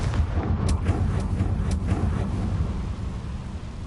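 A Confringo blasting spell explodes in the Hogwarts Legacy video game, a loud rumbling blast with a few crackling bursts that decays into a steady low roar, heard alone without talk.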